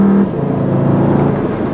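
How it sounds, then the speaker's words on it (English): A 2013 Volkswagen Jetta GLI accelerating at about half throttle: a loud, close, steady engine drone with a rising tone over a short stretch, with no voices. "even about half throttle or whatever, it gets up and it goes pretty well"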